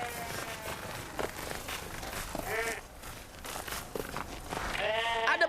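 Sheep in a flock bleat several times, the wavering cries rising over low talk and shuffling movement, with a louder, closer bleat near the end.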